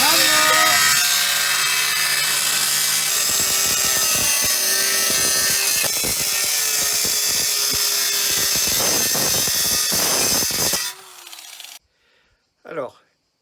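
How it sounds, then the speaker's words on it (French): A power saw or angle grinder cuts loudly and continuously through metal on a Peugeot Scudo 2 van being stripped before conversion work, a steady harsh roar with bursts of rasping, stopping abruptly near the end before brief quieter clatter. "j'ai tronçonné, enfin meulé, je sais pas quoi, scié avec, ma tronçonneuse"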